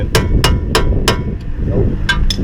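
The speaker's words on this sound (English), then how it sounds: "Sometimes you take a hammer and lightly tap it to go in." A hammer taps a quick-strut part into place on a 2004-2007 Chevy Malibu front suspension, giving six close, sharp metallic knocks at an uneven pace over a low background hum.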